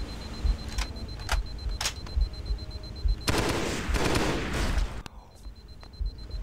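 Weapon fire in the shooter game Halo SPV3: rapid bursts of automatic gunfire, several short volleys and then one sustained stream over a rumbling game backdrop, loud and close, with no talk.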